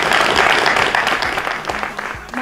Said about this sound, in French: on applaudit aussi pour lui.